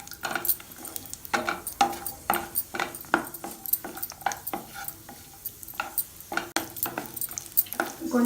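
Cashews frying in ghee in a pan for sweet chakkara pongal, with repeated quick scraping and stirring strokes of a spoon against the pan over a soft, steady sizzle.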